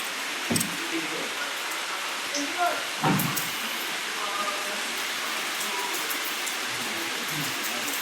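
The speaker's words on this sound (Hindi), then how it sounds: "ये देखो कितनी तेज बारिश है," Heavy rain falling in a steady dense hiss, a broad constant wash with a few louder close knocks and patters, under light background sounds.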